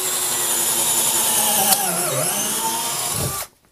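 A Bosch brushless cordless drill running on a 2 amp-hour battery bores a hole, a steady loud whine with the pitch dipping under load before it cuts off abruptly near the end.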